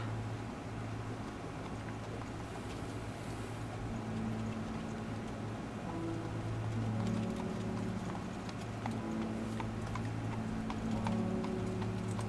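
A horse and buggy plod along with steady rhythmic clip-clop hooves and a low rolling rumble in an 1844-set street of the video game Lamplight City, continuous and moderately close.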